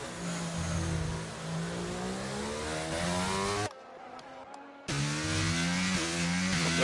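A Mercedes Formula 1 car engine in an F1 racing video game screams at high revs, with the pitch climbing through several gears, cutting out briefly, then roaring back.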